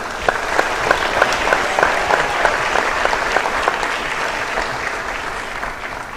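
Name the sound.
audience applause at awards ceremony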